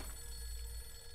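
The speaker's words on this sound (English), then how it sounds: "Okay, I hear that phone ringing." A faint, continuous telephone ring from the video game Fatal Frame 3, heard steadily over a low rumbling hum, with no talking.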